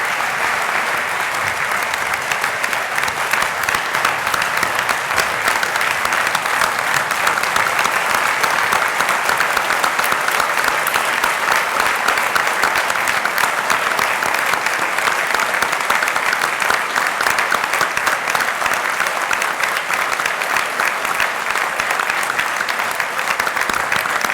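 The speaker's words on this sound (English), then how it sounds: "join me in applauding the wonderful achievement of our graduates" A large audience at a University of Newcastle graduation ceremony in Australia applauds the graduates in long, sustained, even clapping that fills the hall with no talk.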